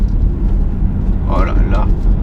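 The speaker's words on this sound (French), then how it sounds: "Mais écoutez-moi ce 5 cylindres." Cupra Formentor VZ5 with its 390 hp five-cylinder engine, a steady low drone heard from inside the cabin, with a voice speaking briefly over it.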